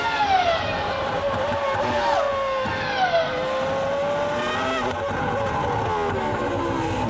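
Rubens Barrichello's Formula 1 race car at the 2005 US Grand Prix, its engine screaming loud and close through rising and falling gear sweeps as he works through a twisty section of the lap.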